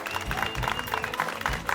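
Hands clapping in a Hindi TV comedy scene, the hands freshly decorated with henna. The claps come as a quick, steady run of close, crisp slaps that blend with room noise for under two seconds.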